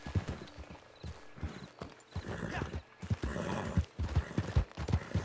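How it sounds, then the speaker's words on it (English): Horse hooves clip-clop steadily across ground in the Wild West game Red Dead, a rhythmic run of close, even beats with an occasional whinny and faint voices underneath. "It's just my horse."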